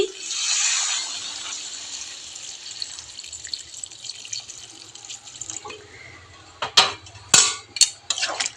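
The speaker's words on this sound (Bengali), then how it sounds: "আমি এখন গরম জল দিয়ে দিচ্ছি" Hot water poured into a cooking pot with cauliflower, soya chunks and potato: a hissing rush of pouring and bubbling that fades, then a few sharp clanks of a utensil against the pot.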